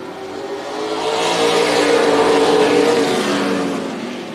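NASCAR Weekly Series stock cars racing at Tucson Speedway roar past in a pack at the start, swelling to a loud peak and fading away again within a few seconds.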